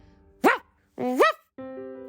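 A dog gives three loud barks or yips in quick succession, each a short harmonic burst with brief pauses between, close and clear with no talking.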